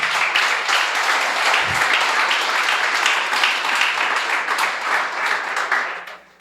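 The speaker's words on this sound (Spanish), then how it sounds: "Démosle un aplauso al Señor." A church congregation applauds steadily, a dense wash of clapping from many hands held for several seconds before tapering off at the end, with no voices over it.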